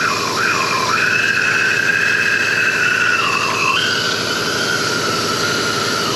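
Shop vacuum sucking fluid out of a reservoir and its lines during a teardown of a 2010 Chrysler PT Cruiser 2.4, a loud continuous high-pitched whine with a wavering pitch over a steady rushing hiss.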